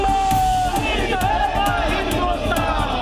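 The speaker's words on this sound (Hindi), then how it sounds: "नारेबाजी से गूंजती आवाजें और सड़कों पर जुटी भीड़" A crowd of BJP workers protesting in a street in Patna, loud and continuous, with overlapping shouting and rhythmic chanting of slogans.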